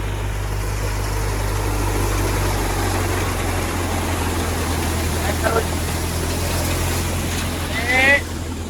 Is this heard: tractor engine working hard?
yes